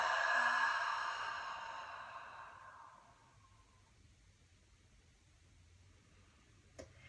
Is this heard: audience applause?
no